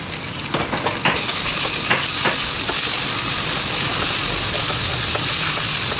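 Beef seasoned with soy sauce sizzles and hisses as it is stir-fried in a pan, a steady loud frying roar with scattered crackles and pops, heard without talk.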